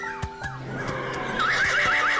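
A horse neighs with a rising, shaky whinny, preceded by a couple of sharp knocks, used as a story sound effect in a tale of a king riding into a deep forest; loud and alone, with no talk.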